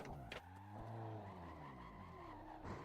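Car sliding in the Assetto Corsa racing game, engine tone sweeping and wavering beneath a tire squeal, with brief sharp bursts at the start and end.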